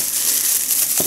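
A small plastic packet of apple cider vinegar and tea tree foot bath soak crinkles and rustles continuously at close range, one brief, short burst of handling with no voices.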